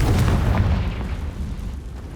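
The Confringo fire spell goes off in Hogwarts Legacy as a loud, close, deep boom that rolls out over two seconds and fades without a sharp tail.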